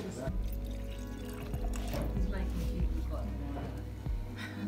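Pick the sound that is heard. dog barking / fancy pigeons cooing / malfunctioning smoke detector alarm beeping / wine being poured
wine being poured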